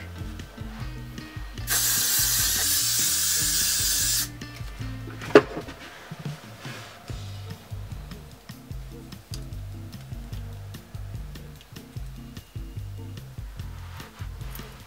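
A continuous hiss of hairspray sprayed on set hair curls lasting a few seconds, followed by faint clicking and tapping of small handling sounds.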